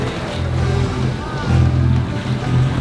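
A boat motor idles on open water, a low throbbing drone that swells and eases in steady pulses, with faint water sounds beneath it and no talking.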